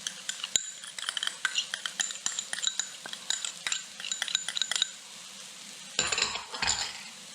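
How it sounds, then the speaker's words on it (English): Garlic and ginger sautéing with onions in a pan during a Ugandan chicken cooking demo, with steady sizzling and frequent close utensil scrapes and clinks against the pan, stopping briefly near the end before resuming. "we'll just do a quick saute for about 30 seconds"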